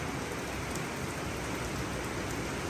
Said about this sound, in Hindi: ऐसी भयंकर बारिश हो रही है ना अभी कि क्या बताएं।